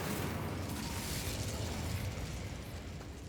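A fire spell cast in the video game Hogwarts Legacy gives a dense, steady whooshing roar with crackling bursts, loud and continuous for the whole stretch, without any talk.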